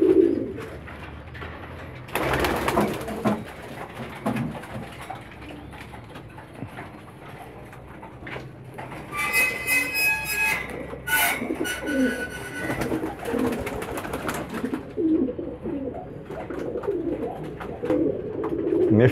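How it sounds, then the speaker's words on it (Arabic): Homing pigeons coo in soft, repeated throaty calls at close range, with some wing flutters and shuffling movement between the calls, and no talk. "حمام بيطير يا جماعة."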